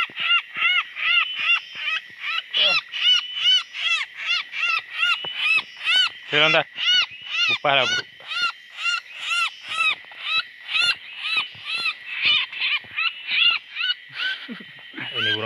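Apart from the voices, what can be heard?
captured bird calling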